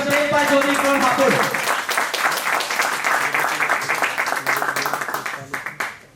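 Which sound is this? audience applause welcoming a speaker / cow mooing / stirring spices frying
audience applause welcoming a speaker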